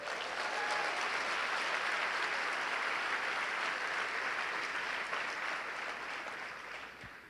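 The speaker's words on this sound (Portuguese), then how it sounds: "Se for para Jesus, pode aplaudir." Sustained applause from a church congregation fills the space, a steady broadband clatter of many hands clapping that holds evenly for several seconds before tapering slightly at the end, with no talking over it.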